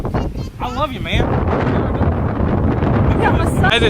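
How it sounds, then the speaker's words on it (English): Strong wind buffets the microphone in a steady, loud roar on Boracay island, with brief voices near the start. "it's super windy"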